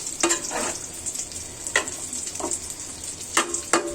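Chicken is worked through a soy sauce marinade with papaya and bottle gourd peel, with a steady hiss under irregular wet stirring and scraping strokes, close and fairly loud, with no voices.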